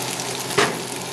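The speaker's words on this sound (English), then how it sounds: "Let the oil get hot for a second, and we're going to add our egg" Oil heating in a wok beside pushed-aside noodles before egg goes in for Pad Thai, a soft steady sizzle with one brief sharp scrape midway.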